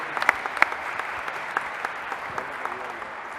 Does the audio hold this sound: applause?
yes